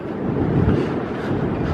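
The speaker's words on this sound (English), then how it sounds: "It's so windy here." Steady wind buffeting a microphone near the Canada–US border crossing, a continuous low rushing roar that holds even and loud throughout, with no voices.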